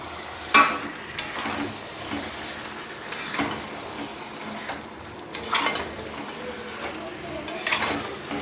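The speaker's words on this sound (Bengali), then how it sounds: "এইবার এটাকে ধীরে ধীরে ভালো করে কষিয়ে দিই নেড়ে ছেড়ে কষিয়ে দিই" Chicken masala cooking down in a pot, a utensil scraping and stirring it in irregular strokes over a continuous low sizzle, near and moderately loud, with an occasional clank against the metal.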